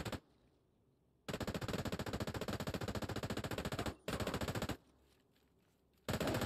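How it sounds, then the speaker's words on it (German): Sustained automatic gunfire in The Division 2, a loud rapid machine-gun rattle in long bursts with short gaps between them, close and with no talk over it. "er schießt doch auf irgendjemanden. Ich schieße auf ihn."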